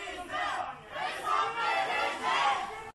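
Student protest crowd outside a university rectorate building, chanting slogans and applauding, a dense, loud roar of many voices rising and falling in waves across the clip.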